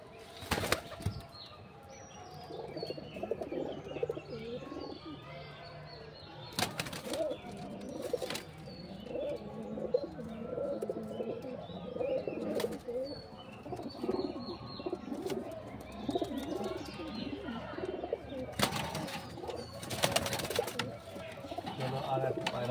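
Pigeons cooing in a low, steady murmur through the whole stretch, with several loud sharp bursts of wing flapping at intervals and some faint chirps in the background.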